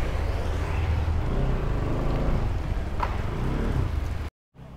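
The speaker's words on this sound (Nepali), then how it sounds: "पानी परो गाइस ठुलै परो छ" Heavy rain pours down steadily in a dense, loud, close wash of drumming drops with no one talking, then cuts out briefly at the very end.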